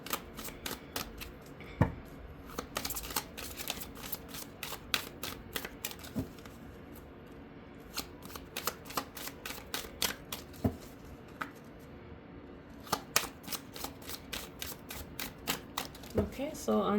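A tarot card deck is shuffled by hand in long runs of rapid, crisp riffling clicks broken by short pauses, close and fairly quiet.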